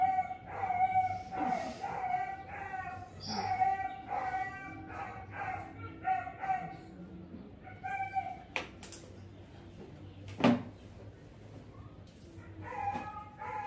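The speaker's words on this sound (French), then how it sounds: "je suis sûr que cette vidéo en ligne va produire le son du chien" A dog howls and whimpers in a series of drawn-out, wavering cries with short pauses between them, at moderate volume over a faint background hum, with a couple of sharper noises near the end.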